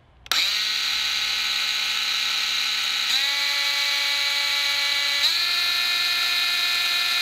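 A Bosch GWX 18V-10 PSC cordless brushless angle grinder with electronic speed control spins up sharply and whines steadily and loudly, its pitch stepping down twice as the speed setting changes.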